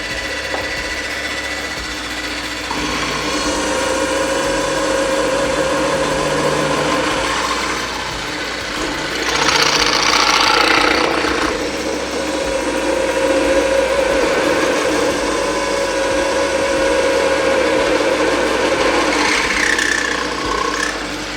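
A Scheppach DP55 drill press runs at about 900 rpm, a steady close motor whine with drilling grind that swells louder midway as the bit presses harder into the work, then settles back, no talk.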